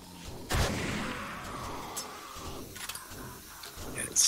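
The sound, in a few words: gunshot outside building in video game 7 Days to Die Darkness Falls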